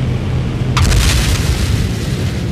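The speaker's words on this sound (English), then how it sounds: "I think I heard an explosion in the living room." A single loud, deep booming blast from an explosion inside a Minecraft house, with a sharp onset followed by a rumbling decay.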